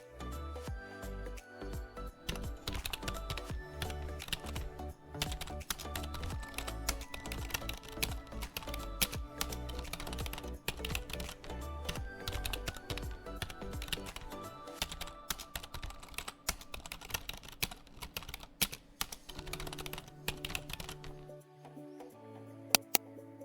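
Notes are typed on a computer keyboard in a long, continuous run of quick, close clicks and key thumps, with brief irregular pauses and no voices.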